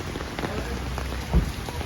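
Rain falls on Amsterdam street in Mexico City, a dense steady patter of drops on pavement and surfaces, close and continuous, with one brief low thump partway through.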